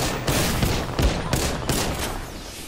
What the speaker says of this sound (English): I am taking fire, friends.